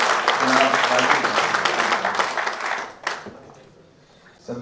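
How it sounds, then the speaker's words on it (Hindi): Applause breaks out from the audience at a mushaira poetry gathering at Jamia Millia Islamia, loud dense clapping for about three seconds that then fades away, with a voice coming in at the end. "आप तालियों के बीच उनका इस्तकबाल करें"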